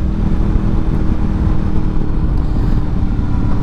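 A 2002 Honda VFR800 V4 motorcycle engine idles and revs with a deep, throbbing pulse, close and loud, holding steady throughout.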